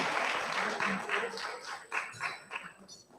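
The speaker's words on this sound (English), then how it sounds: "Please do give them another round of applause for that very wonderful presentation." Audience applause after a presentation at a community ceremony, a steady wash of clapping from a crowd that fades and swells over three seconds, moderately distant, with faint voices mixed in.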